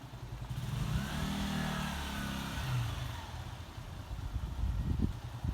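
A Honda CG125 motorcycle's single-cylinder engine runs steadily as the bike rolls down a driveway, a continuous mid-pitched drone with slight rises in revs, fairly close and alone without talk.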